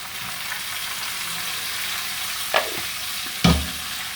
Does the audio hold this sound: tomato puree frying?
yes